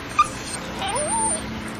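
A dog whimpers and whines in a car in the animated Family Guy, a short yip followed by wavering high whimpers over a steady road hum.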